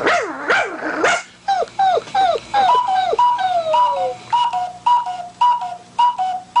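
A voice actor imitates a female watchdog, making whiny yips and short rising and falling vocal barks in a choppy rhythm, close and loud, with no other sounds behind.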